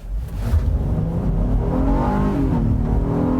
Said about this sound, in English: let's see what it does with a quick acceleration test